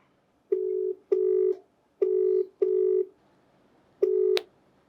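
A telephone ringback tone repeats five times in steady short pulses, clear and alone, with no answer.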